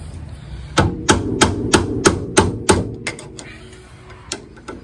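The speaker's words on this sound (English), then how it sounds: "Go over the axle and hit it." Nine or ten sharp metal hammer blows ring out on a 1997 Honda Civic axle that is stuck fast, struck in a steady rhythm close by and then spaced out into a few scattered, lighter hits.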